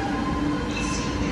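A metro train pulls into a station with a steady rumble and hiss of the carriages, and faint voices are mixed in with the noise of the platform.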